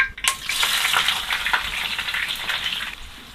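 Chopped onion frying in hot oil with whole cumin in a pan for a goose meat curry, a bright continuous sizzle with stirring scrapes, close and fairly loud, no voices.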